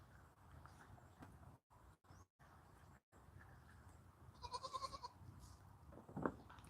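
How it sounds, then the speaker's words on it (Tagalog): Goats bleat faintly in the distance on a goat farm over a low outdoor hum, with a couple of brief cries standing out near the end. "Yan o, mga kambing na yun."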